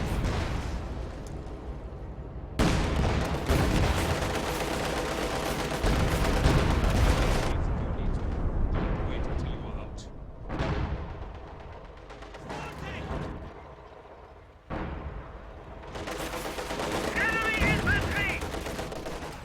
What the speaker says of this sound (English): B4 machine gun fire continues to rattle off across the map.